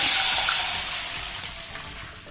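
Water pours into a cooking pot to boil wheat semolina for steamed dumplings, a steady close hiss that starts loud and slowly softens over about two seconds.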